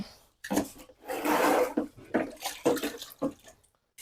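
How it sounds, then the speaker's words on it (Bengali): Water from a tap splashing in bursts as hands and a butchering knife are rinsed, near and uneven with short pauses between splashes. "এভাবে হাতটা ধুয়ে নেবেন, হাতে লম থাকলে ধুয়ে নেবেন, চাকুটাও ধুয়ে নেবেন"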